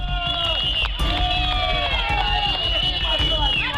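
Large crowd storming a police station, a loud continuous roar of shouting voices and scuffling noise close by, with several voices rising above the din.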